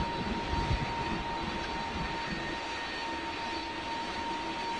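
Fighter jet engine in a flight simulator video game, a steady loud roaring drone with a constant whine running throughout, no voices.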